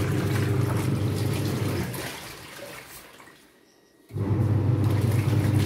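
Water rushes steadily into a washing machine filling to soak laundry, a loud broad gush that dips to near silence for about a second before the flow surges back at full strength.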